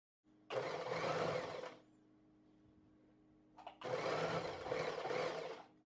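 A sewing machine stitches a pocket bag onto a side piece in two loud, even bursts of motor whir. A quiet pause with a faint hum separates them while the fabric is pivoted at a corner.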